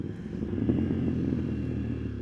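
A Ducati Panigale V2 sport motorcycle with a full exhaust rumbles steadily at close range, a deep, throaty idle with a slight swell partway through, and no voices.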